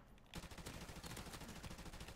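Rapid gunfire in Call of Duty Modern Warfare Remastered during a 3v3 wager match, a sudden loud burst of automatic shots that continues dense and steady after a brief quiet opening.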